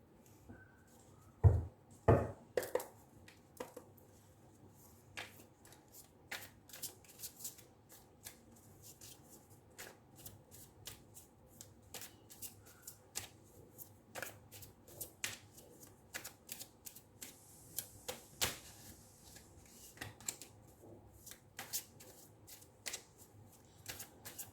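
A tarot deck is shuffled with soft riffles and many light card taps and flicks, close and fairly quiet, repeated over a long stretch with no talking.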